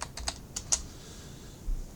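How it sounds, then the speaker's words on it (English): A few quiet, scattered keystrokes on a computer keyboard, typing a short search word, with a brief cluster of clicks then near-silence. "I just type table in"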